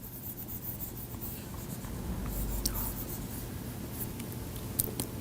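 A pen or marker scratches out an equation by hand during a physics lecture, producing faint, steady scribbling strokes over a constant low room hum.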